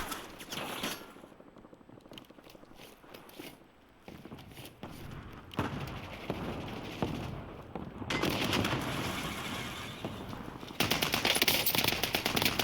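Gunfire in the shooter game Call of Duty Warzone, with bursts of automatic weapon fire and scattered shots, plus footstep-like movement, at a fairly steady, moderately loud level throughout.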